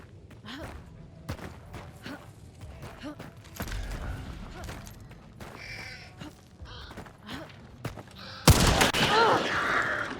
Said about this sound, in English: I traded shots with him, I headshotted him, he tagged me